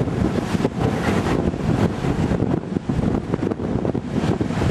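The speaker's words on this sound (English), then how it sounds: "Still very windy out here." Strong wind on an ocean coast buffets the microphone in loud, continuous gusty rumbles, with a rushing wash that may be surf underneath and no talking.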